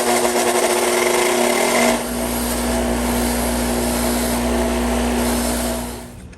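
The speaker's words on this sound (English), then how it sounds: "we're going to just wire brush these screws a little bit" A motor drones steadily while wire-brushing the screws of a Skil Model 100 surfboard planer, with a fine scratchy hiss over a constant hum that drops slightly in pitch partway through before fading at the end.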